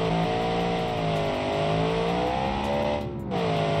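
A rear-wheel-drive muscle car with a manual gearbox revs hard in the BeamNG.Drive driving game, its engine note rising and falling in a loud, sustained roar with a brief dip near the end.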